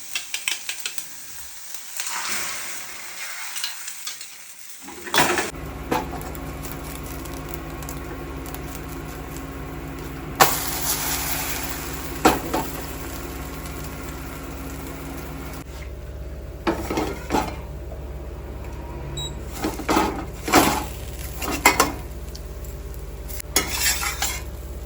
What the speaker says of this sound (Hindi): अंडे में डाल देता हूँ मैं नमक, हल्का हम इसे भूनते हैं हल्का सा